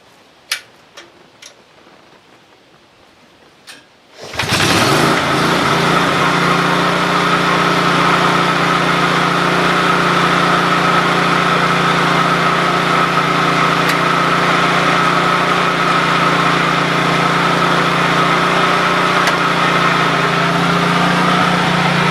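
An old machine's engine fires up after a few faint ticks and clanks, then runs loud and steady with a constant droning, ticking idle as it is driven forward, close by and without talk.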